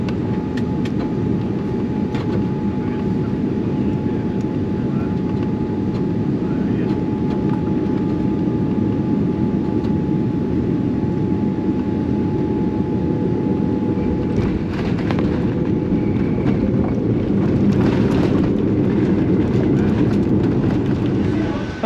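Steady airplane cabin roar during a roughly 14-hour long-haul flight toward Sydney, a continuous broadband engine and air rush with a faint steady hum, unchanging throughout.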